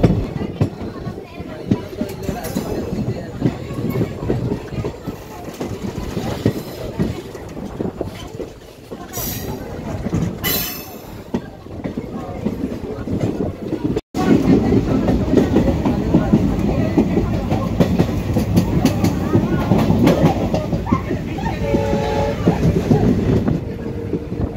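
A passenger train runs on rails between Agartala and Kumarghat, giving a loud, continuous rumble with rhythmic rattling and clatter of the wagons. There is a brief abrupt break midway before the steady running noise resumes.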